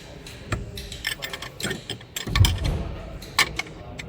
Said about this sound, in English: And then you gotta get the 10 mil with a small wrench